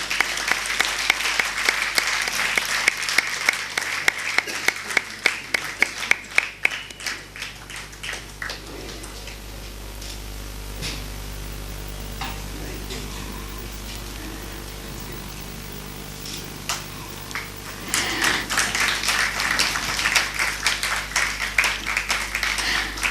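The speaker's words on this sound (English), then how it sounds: "Big round of applause." An audience at an award presentation breaks into sustained applause, dense clapping that thins to a lighter patter in the middle before swelling again toward the end, with no speech over it.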